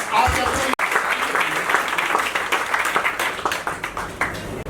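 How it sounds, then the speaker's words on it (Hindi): Loud, dense clapping rises from an audience at a book launch event, a sustained burst of applause with voices mixed in beneath it. "चलो एक बार सबके लिए तालियां हो जाए जोरदार"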